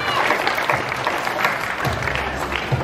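Sustained audience applause and crowd noise at a tiger presentation at Dreamworld's Tiger Island in Australia, dense steady clapping filling the whole stretch with some cheering underneath.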